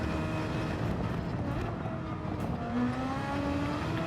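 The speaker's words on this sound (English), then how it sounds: "I can hear the engine kind of drop into a lower." A race car engine in Gran Turismo 7 drones steadily, then its pitch drops and climbs again as it shifts gears, heard continuously without talk.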